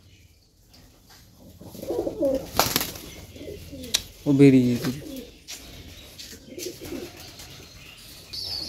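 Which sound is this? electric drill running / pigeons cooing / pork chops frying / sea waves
pigeons cooing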